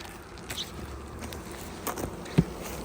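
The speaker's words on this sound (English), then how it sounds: "Get this bee here." Honey bees buzz faintly around an open hive during a colony inspection after a swarm prevention split, a soft, steady hum with a few brief knocks and rustles close by.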